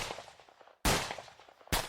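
Two loud, sharp gunshot blasts from an audio drama cut in close together, each bursting suddenly and ringing out in a decaying tail over a low background.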